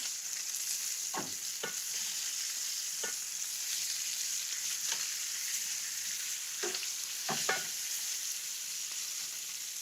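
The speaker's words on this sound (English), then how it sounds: "the lamb is kind of cooking away" Lamb chops sear in a hot pan, a constant bright sizzle with occasional clicks and knocks as the meat or pan is handled nearby.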